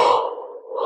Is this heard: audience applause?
no